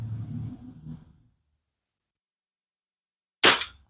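Daisy 901 air rifle firing a paintball at an outdoor target: a low muffled thump and rustle at the start, a long silent gap, then one sharp, loud crack close by.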